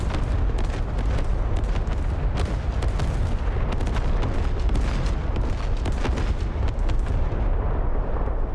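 Video game artillery fire mission, a loud relentless barrage of booming impacts and blasts in rapid irregular succession over a heavy rumbling background.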